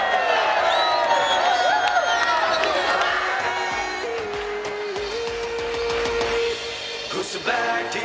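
A large outdoor political rally crowd in Multan cheers, whoops and claps loudly and continuously, with a sustained roar that swells and fades slightly while a voice is partly audible over it.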